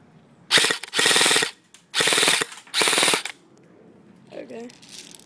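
An airsoft CQB gun fires on full auto in four quick buzzing bursts, each a dense rattle of shots, loud and close, with a short pause between bursts and a brief voice at the end.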